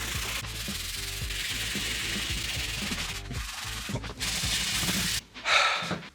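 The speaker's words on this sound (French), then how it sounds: "Donc là, je vais prendre une brosse." A brush sweeps cornstarch dust off a surface in a ransacked workshop, giving steady rhythmic scrubbing strokes that run close and loud for about five seconds, then break off with a few brief rustles.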